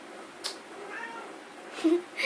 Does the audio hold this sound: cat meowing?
yes